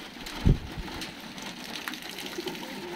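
Water poured one-handed into a drinking trough for farm animals outdoors: a soft, close splash opens with a brief thump, followed by a faint trickling gush.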